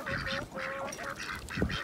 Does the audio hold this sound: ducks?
yes